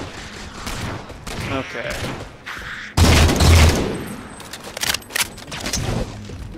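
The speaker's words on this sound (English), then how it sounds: "Oh man, they are just firing at us" Enemy gunfire in Halo 4 Spartan Ops: bursts of rapid shots and booms crackle through the mix, with a loud volley midway, while a player talks briefly.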